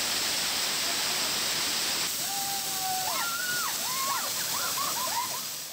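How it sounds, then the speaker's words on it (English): Steady broadband rushing of a waterfall by a mountainside path, loud and continuous, with birds chirping and whistling over it partway through. "So guests can visit a nearby waterfall."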